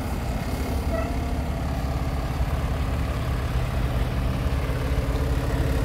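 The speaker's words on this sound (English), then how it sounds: "Beautiful engine." A fire truck engine idles in a parking lot, a steady low rumbling drone that holds constant throughout without change, fairly close and alone with no voices.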